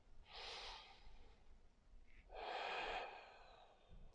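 Slow nasal breathing during a yoga session, one long airy inhale followed by a fuller exhale, soft and close, with no talking.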